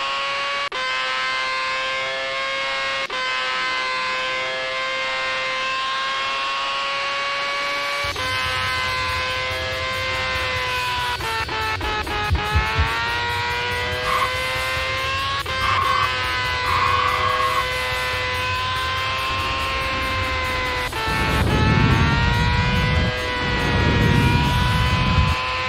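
Race car engines whine steadily in a PS1 racing game, with long sustained tonal drones that shift pitch as the cars accelerate, mixed with low rumbling bursts near the end; loud and continuous, with no talking.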